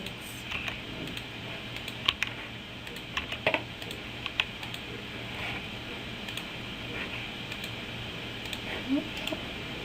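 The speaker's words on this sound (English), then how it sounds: "pressing the delete button on your keyboard" Computer keyboard keys pressed while clearing graph labels, scattered sharp clicks over a steady hum, sparse and irregular across the stretch, fairly faint and close.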